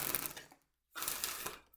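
Tarot cards being shuffled by hand, a dense papery riffling and rustling heard close and fairly quiet, broken by a short silent gap before a second shuffle.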